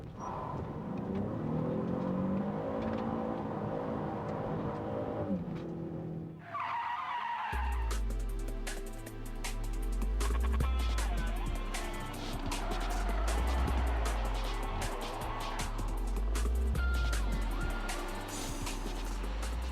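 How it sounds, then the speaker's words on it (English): A car drifting round a corner after the handbrake locks the rear wheels, with a rising, revving engine and a sustained squeal of skidding tyres that swells and fades, fairly loud and close, with no talk. "you pull the handbrake on, it locks the rear wheels, gets the car into a drift, and then you continue it round the corner"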